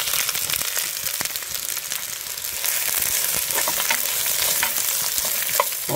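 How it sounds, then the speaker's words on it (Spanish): Onion fries in a pan with a steady, dense sizzle and crackle that runs throughout at a fairly loud level, with occasional sharper pops and faint stirring scrapes and no voices. "Ahora sí se pone a freír la cebolla"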